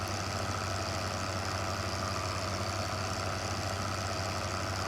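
A farm vehicle engine idles in Farming Simulator 2015, a steady, even drone with a low rumble and no change in pitch.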